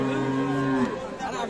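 At a rural Saturday cattle market in Dinajpur, a Friesian cow gives one close, loud, low moo that holds steady and then breaks off, with faint market background after it.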